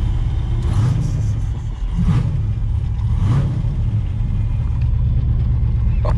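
A 1973 Dodge Charger with an 8100 cc engine idling with a deep, loud rumble, rising in a few revs before settling back, close by with no talk over it.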